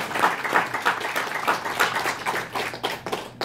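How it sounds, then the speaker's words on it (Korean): Audience applause closes a forum of an alumni association academy, a dense crowd clapping steadily at moderate loudness for a few seconds, with sharper individual claps standing out near the end. "하여튼 큰 박수로 끝내겠습니다."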